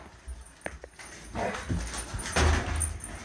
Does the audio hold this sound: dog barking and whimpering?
yes